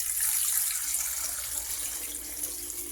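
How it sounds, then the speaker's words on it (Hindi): Water pours steadily into a vessel while sattu sharbat is being made, a continuous close splashing stream running alone for a few seconds. "अब हम इसके अंदर पानी डालेंगे।"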